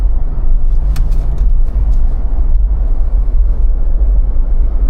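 A new Ford Bronco accelerates aggressively, heard as a loud, constant low rumble of engine and road noise without clear gear changes.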